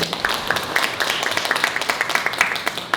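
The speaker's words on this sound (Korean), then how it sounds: "다시 한번 따뜻한 박수 부탁드립니다" An audience at a community achievement-sharing event claps warmly, a scattered patter of hands that continues steadily for a few seconds.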